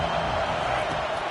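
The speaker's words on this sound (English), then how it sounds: "The roar of the crowd trying to fuel this defense to keep them pinned in their own end." A continuous crowd roar fills a stadium in a Madden football video game, loud and broad, a steady wall of cheering noise.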